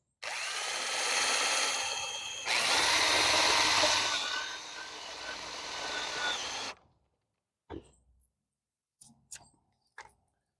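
A power drill drives a self-tapping screw through Velcro into a pool pole, a close whirring run for several seconds that shifts pitch midway, then stops, followed by a few short taps and clicks in quiet.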